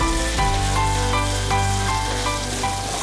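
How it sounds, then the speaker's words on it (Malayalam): Sliced onions sautéing in a pan, with a continuous dense sizzle under steady background hum or music, even and close throughout. "സവാള ഒന്ന് വാട്ടിയെടുക്കുന്നു"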